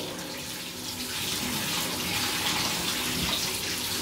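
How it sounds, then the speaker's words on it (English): Shower spray rinsing a bathtub after scrubbing, a steady close hiss of water hitting the tub surface that runs continuously without pause. "I'm just using the shower."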